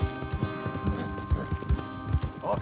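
Horse hooves gallop in Red Dead Redemption 2 with a steady, rhythmic clip-clop of several horses, close and fairly loud over a low ambient hum.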